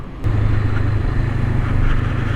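A car with a stock exhaust drives along residential streets, its low steady engine drone and road noise holding constant and fairly close throughout.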